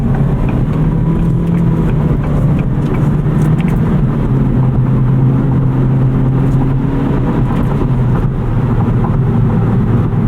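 A 2023 Acura Integra Type S in sport mode pulls hard after a downshift, its engine note steady and loud throughout with a low droning tone rising slightly, heard from inside the cabin.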